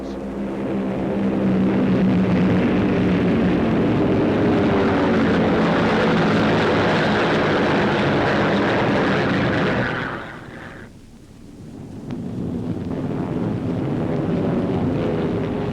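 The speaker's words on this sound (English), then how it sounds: "deadly Focke-Wulfs and Me-109s are on their way to challenge our men and planes" WWII fighter planes, German Focke-Wulfs and Me-109s, fly with a loud, steady engine roar that briefly dips near the end before returning at full strength.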